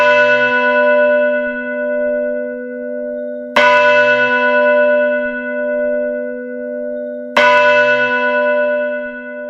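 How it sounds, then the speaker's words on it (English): A large bell tolls three times at slow, even intervals, each strike ringing out and decaying with a long, rich hum. "The Liberty Bell rang out."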